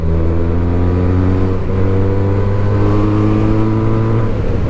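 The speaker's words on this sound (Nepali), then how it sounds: "योशिमुराको एक्जस्ट लागेको भएर चाहिँ लास्टै नै लाउड तर स्मुथ खालके लाउड छ" A Benelli 302S motorcycle fitted with a Yoshimura exhaust rides along a highway, its engine holding a steady, loud but smooth drone with strong harmonic tones and a slight pitch dip partway through.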